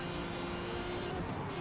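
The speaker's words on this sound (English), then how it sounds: "Get him so far behind me that I don't have to hear his car anymore" A steady engine drone from a race car in Forza Motorsport, holding a constant pitch and loudness throughout without a clear pass-by.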